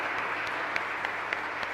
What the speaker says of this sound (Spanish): un fuerte aplauso aquí a Brenda Aramí